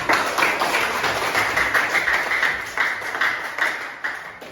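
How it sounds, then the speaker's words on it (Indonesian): Audience in a classroom presentation session clapping enthusiastically, a steady dense burst of applause from a nearby group that keeps going for several seconds. "Ini applause dulu, tepuk tangan yang meriah."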